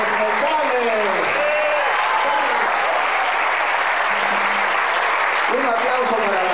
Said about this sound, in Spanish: Un aplauso para los metales